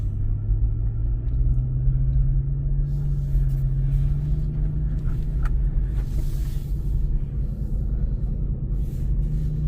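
Car driving slowly down a back lot: a steady low engine and road rumble from inside the cabin, with a faint rising tone and light rattles over it, and no talking.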